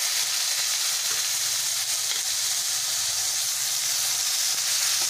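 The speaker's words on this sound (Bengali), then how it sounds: "মাছ ভেজে আমি তুলে নিয়েছি, সেই তেলে আমি পেঁয়াজটা দিয়ে দেব" Onions fry in oil left over from frying tangra fish, giving a dense, continuous sizzle over medium heat, close and even from start to finish.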